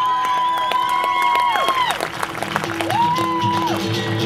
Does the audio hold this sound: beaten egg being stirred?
no